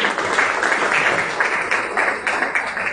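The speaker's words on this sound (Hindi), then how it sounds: "एक बार और जोरदार तालियां।" Enthusiastic applause for a poetry recitation at a Hindi book festival, a steady wash of clapping from a gathered audience that swells in waves and holds for several seconds with no talking over it.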